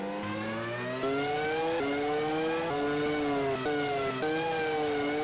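A Formula One car's engine revs hard in the Game Boy Advance racing game F1 2002 as the car over-accelerates into a spin. A thin, buzzy electronic whine climbs in pitch in repeated steps, dropping at each shift, loud and alone.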